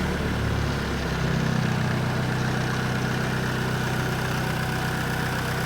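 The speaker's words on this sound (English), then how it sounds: "the unit will go down to an idle, and the unit will sit at idle for approximately a minute and then automatically shut off" An AERO JetGo 900 ground power unit engine idles steadily, a loud, continuous low rumble with constant vibration and no voices.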